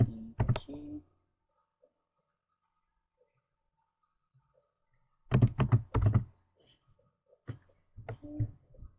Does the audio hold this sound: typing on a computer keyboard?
yes